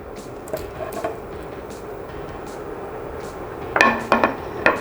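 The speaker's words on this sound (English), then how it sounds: "I'm gonna give that a good stir" A spoon stirs pork chili verde in a pot, with a few sharp metallic clinks and scrapes clustered near the end over a quiet kitchen background.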